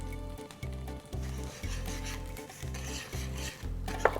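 Batter for Korean rice cake cooks over medium heat in an oiled pan, giving a steady close sizzle and rubbing scrape with a repeating pulse and a brief clink near the end.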